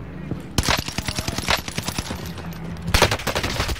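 Gunfire in the Warzone Pacific video game, rapid automatic bursts rattling close and loud, with a second burst near the end, and someone talking over them.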